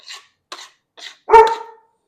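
A single dog bark rings out clearly in a kitchen after a few faint short sounds, moderately loud and close, with no speech.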